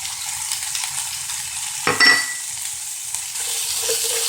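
Potatoes for country-style home fries frying in a hot pan, a constant close sizzle with a sharp scrape and clatter of stirring near the middle, then the frying carries on alone without any voices.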